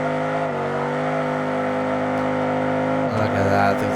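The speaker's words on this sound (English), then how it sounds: "we gotta just do a little burnout real quick" A steady, loud engine drone holds at high revs during a burnout in the video game BeamNG.drive, shifting pitch near the end as tires spin, continuous and close.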